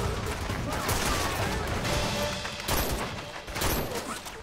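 Gunfire exchange between Japanese police and soldiers in the Korean drama Song of the Bandits: dense, continuous bursts of shots under a busy, loud mix, with faint voices and score around it.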